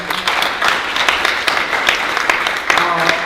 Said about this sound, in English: let's give Kellen a round of applause